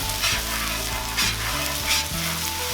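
A bacon chipotle smashburger on a Cuisinart 360° griddle gives a loud, close, steady sizzle with bubbling crackle and a low rhythmic hum underneath throughout.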